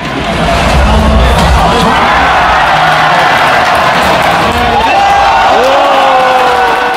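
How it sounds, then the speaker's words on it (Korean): Large esports crowd at a League of Legends Worlds match in BEXCO arena roars and cheers continuously, a loud dense wall of shouting with whoops rising and falling throughout. "선수들의 플레이 하나하나에 응원의 함성이 경기장을 가득 채웁니다"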